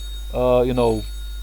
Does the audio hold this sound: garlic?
no